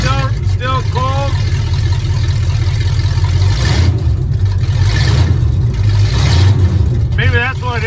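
A car engine turns over and runs rough on a cold start, a loud, close, continuous rumble with uneven revving swells, while voices talk over it.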